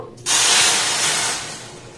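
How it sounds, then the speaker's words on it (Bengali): Water is poured into a pan of sugar to make syrup, a sudden loud rushing splash that starts abruptly, holds steady for about a second, then gradually tapers off. "এখানে আমি দেড় বাটি জল দিয়ে দেব"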